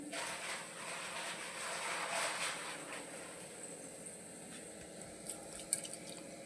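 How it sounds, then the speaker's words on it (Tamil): Water poured into a pressure cooker on a home kitchen stove, a soft continuous splashing and trickling that stays fairly quiet and steady, ending in a few small drips and knocks. "குக்கரை தண்ணி ஊற்றி கொஞ்சமாக தண்ணி ஊற்றி உப்பு போட்டுருவோம்"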